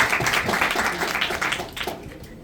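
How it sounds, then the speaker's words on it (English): A crowd at a Rotary gathering applauds in a brief, moderately loud burst of mixed clapping that thins toward the end. "Please, a round of applause."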